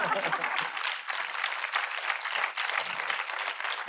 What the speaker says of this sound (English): let's have a big round of applause for our extraordinary group here